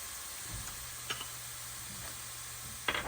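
Ginger fries in hot oil for a lemon pickle, a faint, steady low sizzle with a few soft stirring clinks and ticks, no talk.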